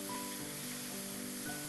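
Mushrooms and spinach sizzling in a pan on a high flame for an alfredo pasta, a steady soft hiss with faint crackles and a low hum behind it.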